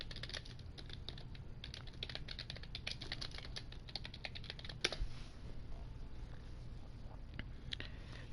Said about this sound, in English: Sorry if you heard my aggressive typing skills.